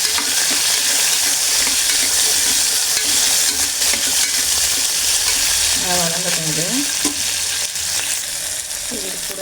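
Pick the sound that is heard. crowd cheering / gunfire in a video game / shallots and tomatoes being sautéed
shallots and tomatoes being sautéed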